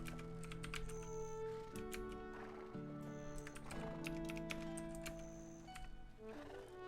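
Keys clack on a computer keyboard during a Black Desert Online session, a run of quick, light taps heard over steady, tonal game music.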